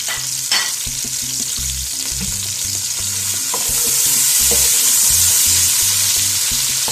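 One medium onion sautéing in three tablespoons of oil for a kadhi pakora masala, a loud, steady close sizzle with soft stirring scrapes that grows slightly stronger partway through.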